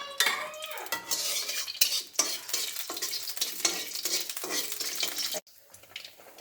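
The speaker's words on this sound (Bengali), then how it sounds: "এখানে একটু ভাজা হোক।" Whole cinnamon, cardamom, bay leaf and dried chili frying in a little oil for a Bangladeshi beef curry, a steady close sizzle broken by repeated stirring and utensil scrapes against the pot, stopping abruptly near the end.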